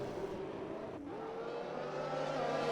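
A safety car circles the Abu Dhabi track in a racing game, its engine a steady, moderately loud hum with a slight pitch shift as it drives slowly.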